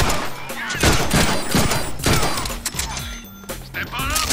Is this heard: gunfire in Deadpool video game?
yes